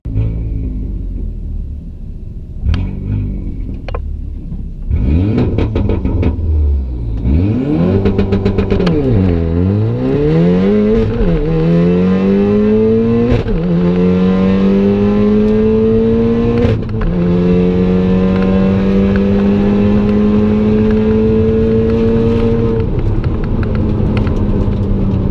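An MK7 VW Golf R with a DSG gearbox accelerates hard on a quarter-mile drag run. The engine idles loudly, then rises in pitch through several gears, with a short break at each quick shift, and builds into a long sustained roar.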